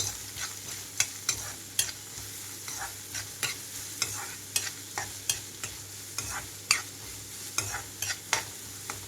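Onions and green chillies fry in a pan for egg bhurji, a steady sizzle punctuated by regular sharp scrapes and taps of a stirring spoon.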